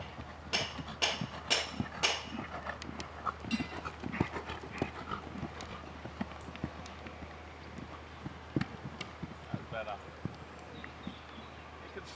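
A horse in training clip-clops along in a brisk, steady rhythm, the hoofbeats soft and moderately close beneath intermittent talking, with a few sharper clatters early on.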